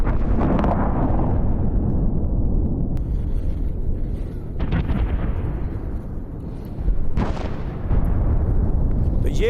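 Missile strikes on a Houthi power plant: a series of heavy, loud booming explosions, each a sharp blast trailing into long rumbling roar, three or four hits spread over several seconds.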